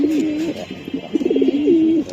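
Racer pigeons, including a grizzle, coo in close, soft repeated rolling calls, with a few rising and falling phrases across two seconds.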